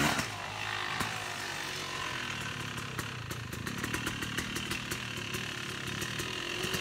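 A Yamaha YZ250 two-stroke dirt bike fitted with a Rekluse auto clutch runs at moderate distance, its engine buzzing steadily with rhythmic rev pulses and clattering, no voices.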